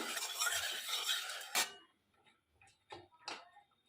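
Fish with turmeric stirred in a pan with a little oil: a sizzling stretch ends in a sharp clatter, followed by a few sparse metallic taps and scrapes of the utensil against the pan.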